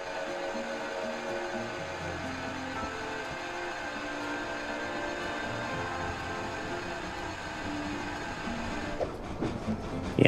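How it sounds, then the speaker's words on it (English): Train in the PlayStation 3 game Sly Cooper: Thieves in Time: a steady, loud rumbling rail drone with tonal hum running throughout, no voices, and clattering at the very end. "Train."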